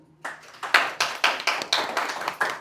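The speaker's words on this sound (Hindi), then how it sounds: "इनके लिए तालियां हो जाएं।" An audience claps in rhythm during a business course session, a short run of roughly even, moderately loud claps at about two per second, with no talk over them.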